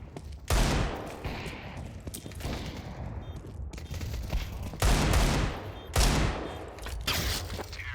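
Sharp Desert Eagle pistol shots in Counter-Strike on the Train map, three or four loud cracks spaced about a second or more apart over faint game background noise.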